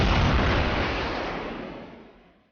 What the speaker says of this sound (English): Silence covered the east wing, followed by a pillar of fire shooting from the glowing triangle to the ceiling